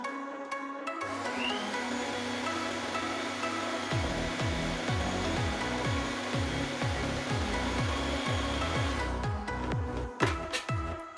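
A stand mixer with only a whisk attachment beats lemon tart pastry dough, a steady close motor hum with a rhythmic thumping that starts a few seconds in as the dough knocks around the bowl.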